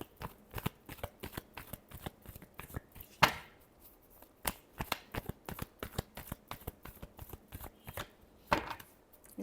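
Tarot cards shuffled by hand, a quick run of sharp riffling flicks and soft slaps in an uneven rhythm, close and crisp, with one or two louder bursts and no voices.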